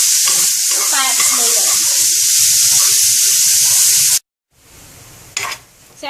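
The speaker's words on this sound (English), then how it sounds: "our bacon is already turned to golden brown, and that's what you'd want for your bacon" Bacon fries in a pan with no added oil, cooking to golden brown in its own fat. A loud, steady sizzle and crackle runs close up, then cuts to a much quieter stretch.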